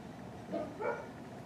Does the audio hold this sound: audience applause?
no